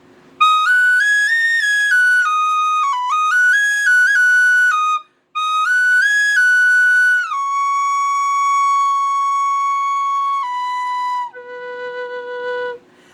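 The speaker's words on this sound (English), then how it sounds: "this is the tutorial for tin whistle of the song Jesus at the Center" Tin whistle playing the melody of the song Jesus at the Center, clear sustained notes stepping up and down in phrases, close and solo with a brief pause midway and longer held tones toward the end.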